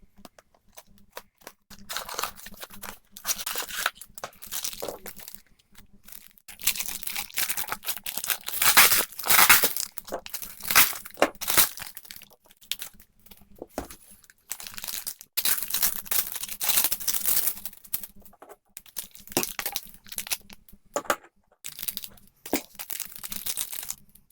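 Beyblade Burst Sparking booster packaging and tape being torn open, long stretches of close crinkling, ripping and crumpling plastic and paper in irregular bursts with brief quiet gaps, no talk.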